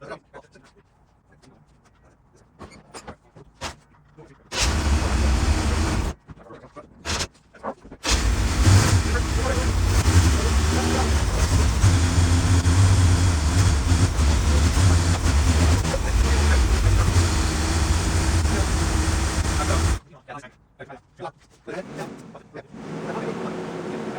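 A 1984 Corvette C4 engine idling after a carburetor swap, a loud steady low rumble that starts up after sputtering bursts and runs evenly before cutting off abruptly, with speech at points.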